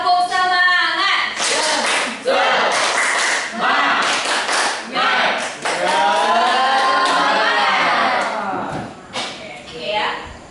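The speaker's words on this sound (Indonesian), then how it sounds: "Tepuk semangat." Rhythmic group spirit clap by a class of Indonesian school students, a series of sharp, patterned claps mixed with children's chanting voices, loud and close throughout.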